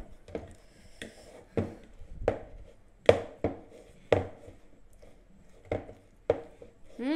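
A fork mixes peanut butter cookie dough in a bowl, giving a series of sharp, close clicks and taps at an irregular pace, with quiet gaps between them and a short voice at the end.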